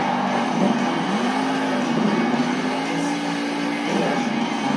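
A monster truck engine roars steadily during a sky wheelie in an indoor arena at a Monster Jam event, a loud sustained drone with slight pitch rises and a dense crowd and venue wash underneath.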